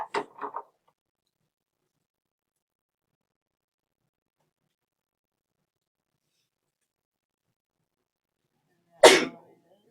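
A single sharp, loud sneeze bursts out near the end of a quiet stretch in a high school algebra classroom. A short, faint sound comes right at the start, and otherwise there is near silence.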